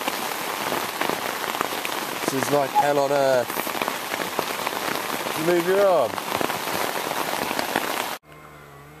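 Torrential rain drumming steadily on a tent during a rafting trip in Sweden, a dense loud hiss that cuts off abruptly near the end, with people talking over it.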